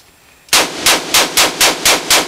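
Seven loud, sharp gunshots from a VZ 58 Sporter rifle in 7.62x39, fired in a steady rhythm about every third of a second after a quiet start, each blast close and ringing briefly.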